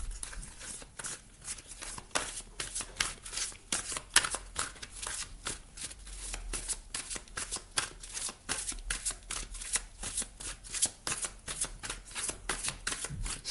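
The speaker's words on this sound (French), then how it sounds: "lorsque je brasse les cartes" Steady riffling and slapping of a tarot deck being shuffled by hand, close and fairly quiet, with dense irregular papery flicks running continuously and no voice over them.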